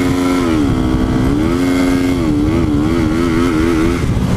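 A 125cc motorcycle revs loudly and steadily up close, its engine pitch rising and dipping as the worn clutch slips, with no voices over the continuous drone.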